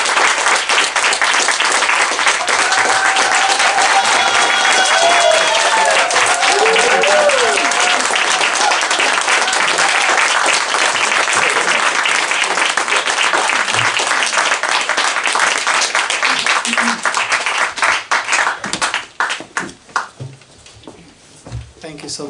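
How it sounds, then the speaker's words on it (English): A large audience gives a steady, loud round of applause for a speaker at a Revolution Books event, sustained throughout before tapering into scattered claps near the end. "Let's give him a warm round of applause."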